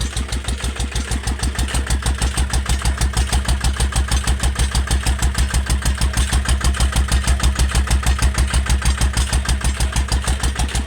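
Close, loud, low rumbling engine of a walk-behind tractor with a newly installed exhaust pipe, a fast steady exhaust beat with a deep booming tone, running continuously without voices.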